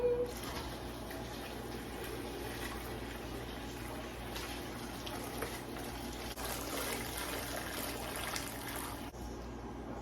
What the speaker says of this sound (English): I'm straining mine twice. First in the big colander and then in a little sieve.